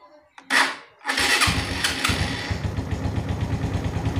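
Suzuki Shogun FI motorcycle with a rough idle problem cranks once briefly, then catches and settles into a steady, pulsing close-up idle.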